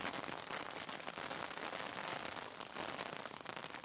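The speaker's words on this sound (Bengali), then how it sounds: "বৃষ্টি হচ্ছে আমাদের এখানে" Rain pouring down outdoors after a spell of intense heat, a steady dense hiss of drops pattering on surfaces, continuous and fairly close with no voices.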